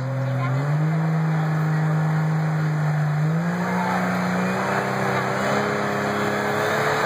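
A Dodge modified stock truck at a county fair truck pull roars at high, steady revs, its engine note climbing in steps as it works down the track under a constant loud crowd and track ambience.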